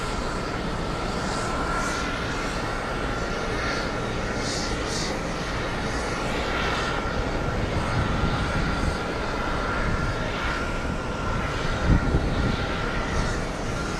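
Airliner jet engines at JFK airport drone loudly and continuously with a broad, steady roar, with no voices heard.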